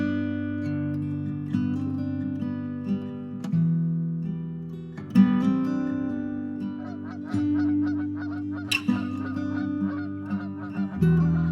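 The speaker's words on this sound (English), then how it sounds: "geese go high and over" Geese honk repeatedly, close and loud, over a steady low humming tone.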